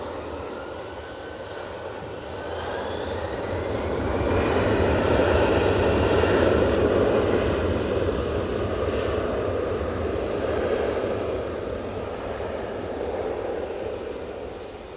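A SunExpress airliner arrives at Manchester Airport, its engine roar swelling steadily as it nears, peaking mid-way and holding loud before easing slightly, with no talk over it.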